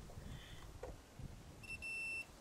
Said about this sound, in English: We hear the beep, so this wire is good.